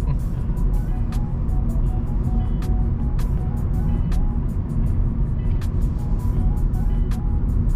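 Honda Civic Touring car driving with a steady engine and road drone throughout, close and continuous, while people talk over it in the cabin.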